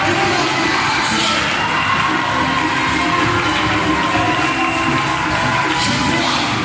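Church congregation at Zoé Tabernacle in Daloa cheering and shouting together during a sermon, a loud, dense and continuous crowd roar with whoops and raised voices throughout.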